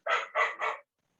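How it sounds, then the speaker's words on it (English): A dog gives three quick, evenly spaced barks in a burst, then falls silent; moderately loud with nothing else heard, in a home setting during a lecture. "My dog's barking, if you can hear him in the background."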